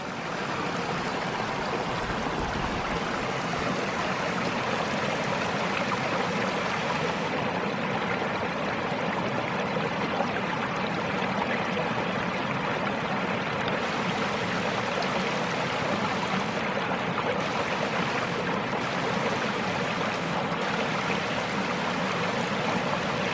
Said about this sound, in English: Just listening to the sound of water.